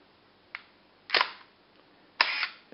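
A camera with a flash mounted on it fires its shutter, giving a faint tick and then two sharp close clacks about a second apart, each followed by a short mechanical whir.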